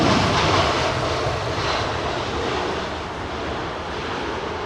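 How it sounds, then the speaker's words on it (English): A Boeing 767 airliner taxiing at Heathrow Airport, its jet engines giving a steady, loud, broad roar with a faint whine, close by and continuous throughout. "Rapidly taxiing 767."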